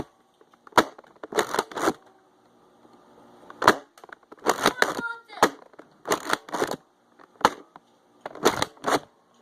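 Nerf blasters firing foam darts in a backyard-style battle, sharp snapping shots in quick pairs and clusters separated by short gaps, close and crisp, with some voices in between.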